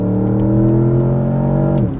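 Porsche engine revving hard on a country road, a loud steady multi-toned drone holding high revs for nearly two seconds before easing off, with no voices.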